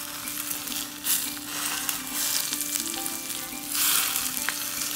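Loud continuous sizzling and crackling of very hot ghee poured over chicken, with bursts of hiss rising and falling, close up.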